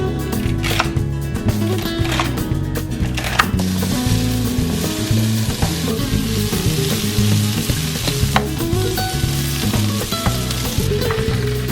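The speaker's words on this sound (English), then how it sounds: "So first you saute the onions." Onions sautéing in a pan with celery and lamb nearby, a steady close sizzle and frying crackle running throughout, with occasional stirring scrapes and knocks against the pan.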